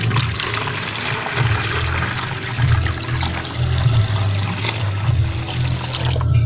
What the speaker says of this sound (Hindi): चलिए पानी इसमें डालते हैं पहले